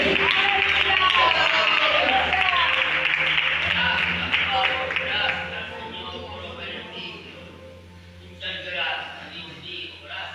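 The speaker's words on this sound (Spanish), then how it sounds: "¡Aplaude!" Applause from a church congregation during worship, sustained clapping under loud voices and a steady low hum, fading somewhat toward the end.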